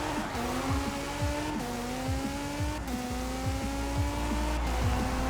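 Peugeot 207 Super 2000 rally car tuned to 700 horsepower in Forza Horizon 4, its engine revving hard and climbing through repeated gear changes with rising whine, loud and continuous.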